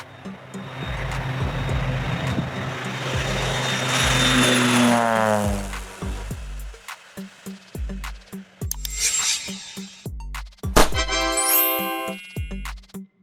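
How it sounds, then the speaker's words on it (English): An agricultural crop-duster plane drones with a steady propeller hum that climbs in pitch as it passes, then drops to a quieter stretch broken by scattered clicks and short bursts. "Agricultural aircraft. Also known as crop dusters"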